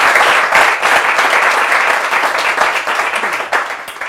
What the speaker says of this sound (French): On applaudit toutes les interventions.